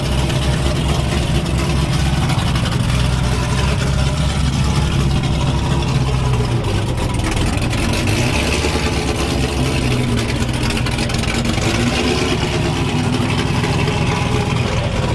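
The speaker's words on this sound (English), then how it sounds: "Got HR Scat out here warming up. And then got Royce's Pro Charge Bet warming up." Two 1200 horsepower Hemi engines, one twin turbo Scat and one ProCharger-boosted, warming up together in a steady, loud, rumbling idle that carries on without a break.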